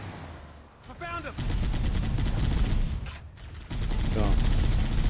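Rapid bursts of weapon fire in Halo: Combat Evolved, sustained dense rattling volleys at moderate loudness that pause briefly midway, with a voice speaking over them in places.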